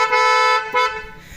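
Genuine Hyundai Creta horn fitted to a Maruti Brezza, sounding two loud, close honks: a long blast followed by a shorter one, with a brief fade afterward.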